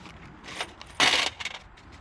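Nickels spilling out of an envelope found in the locked trunk of a 1967 Ford Galaxie 500, a short close jingle of coins landing together in one bright burst with a few lighter clinks after.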